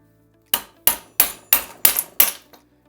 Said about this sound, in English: I'm gonna start hammering it, and you'll see it coming from the opposite side.